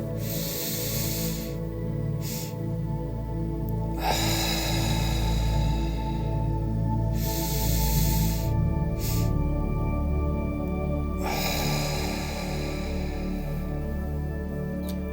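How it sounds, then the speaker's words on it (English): Slow guided breathing in the physiological sigh pattern during a meditation, with long, close airy inhales and exhales that rise and fall in cycles a few seconds apart, alone and without talk. "Continue to breathe using the physiological sigh"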